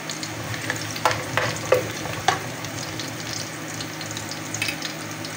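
Garlic sautéing in oil in a pan for Filipino ginisang monggo makes a constant close sizzle, with a cluster of spatula scrapes and stirs early on and another near the end.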